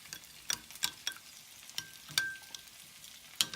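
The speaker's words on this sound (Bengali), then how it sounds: "এবার এটা আমি খুব ভালো করে মিশিয়ে নেব।" Kashmiri chili powder and dried chili powder get stirred into water for butter chicken, a quiet series of sharp spoon clicks and taps against the bowl with soft swishing between them.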